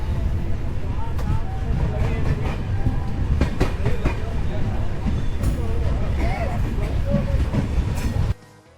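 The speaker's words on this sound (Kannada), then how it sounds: "ಆ ಟ್ರೈನ್ ಸೌಂಡು ಟಕ್ ಟಕ್ ಟಕ್ ಅಂತ" A night train pulling out of Yelahanka Junction heard from inside a coach, with a loud steady rumble and rattling wheel beats and someone talking over it, until the noise drops away at the end.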